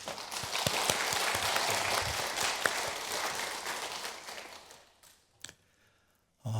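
A church congregation applauds during a Sunday afternoon service, a dense wash of clapping that fades out over several seconds, followed by a few scattered sounds and near silence.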